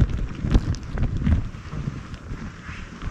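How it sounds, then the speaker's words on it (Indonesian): Strong gusty wind buffets a tent on a winter mountain in South Korea, a loud, close roar with flapping and rustling surges throughout. "angin sangat kencang."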